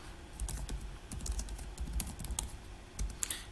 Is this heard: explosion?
no